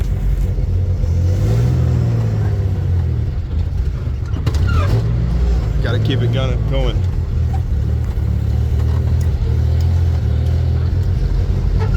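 Jeep CJ6 with a rough-running engine on a test drive in two-wheel high, its steady loud rumble rising and falling with throttle, someone speaking briefly over it.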